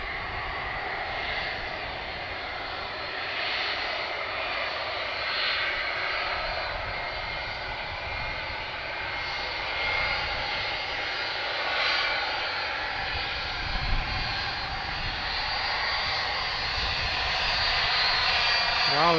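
A CargoJet cargo jet aircraft roars steadily at an airport, its engine noise broadband and sustained throughout, loud and close with slight swells.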